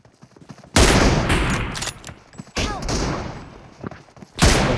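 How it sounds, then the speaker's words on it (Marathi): Heavy bursts of automatic gunfire in a shooter video game, three loud rattling volleys of rapid shots separated by short lulls, up close. "कशी एवढ्या लवकर गोळी सुटते बा याची"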